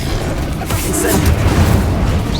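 An Incendio fire spell is cast in the Hogwarts Legacy video game, a loud, continuous roaring whoosh with deep booming rumble and brief bright flares.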